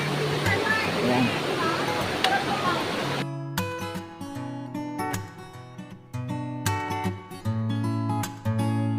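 Daranak Falls, a waterfall in a nature park in Tanay, Rizal, roars steadily in a broad wash of falling water, then gives way to a busier mix of sounds with people talking nearby.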